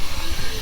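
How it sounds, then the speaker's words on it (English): A 1911 Stanley Steamer Model 62 Tourer steam car at an outdoor classic car show, giving off a loud, steady, close broadband hiss of steam. "is a steam car, and it's steaming."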